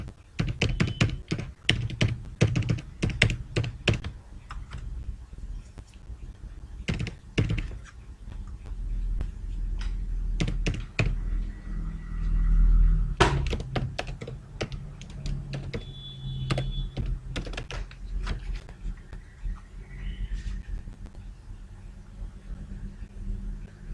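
Card number typed on a computer keyboard for a net banking payment, a run of sharp key taps in bursts with pauses, close and fairly loud over a low background hum.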